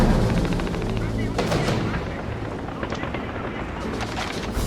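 Dense gunfire from Call of Duty 3 rattles almost without a break, bursts of rapid automatic shots mixed with heavier blasts, loud and steady throughout, with voices talking in the background.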